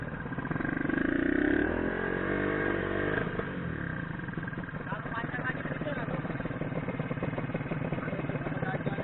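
A Kawasaki Ninja motorcycle engine revs hard and then settles into a steady running drone during a speed test, with people talking over the engine noise.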